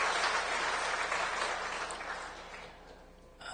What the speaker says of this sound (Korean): 환영의 박수를 해주시면 좋겠습니다.